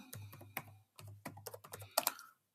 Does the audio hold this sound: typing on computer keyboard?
yes